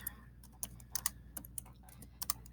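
Keys clatter on a computer keyboard in a quick, uneven burst of close, light clicks, quiet and free of speech.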